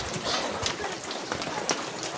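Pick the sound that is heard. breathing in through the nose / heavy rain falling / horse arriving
heavy rain falling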